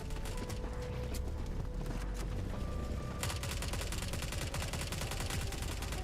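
Distant enemy gunfire in the video game The Forever Winter, a steady stream of rapid, faint automatic shots under a busy mechanical background, growing denser partway through.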